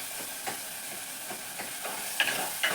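Masala sautéing in a pan on the stove for Kerala-style fish curry, giving a steady soft sizzle and hiss with occasional stirring scrapes and a couple of sharper pops near the end.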